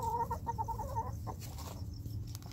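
Chickens cluck in a quick, chattering run of short calls, close and moderately loud, then fade into a low background hum.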